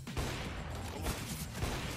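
Rapid gunfire from the Counter-Strike 2 video game, dense overlapping shots and bursts filling the whole stretch at a loud, constant level with no pauses.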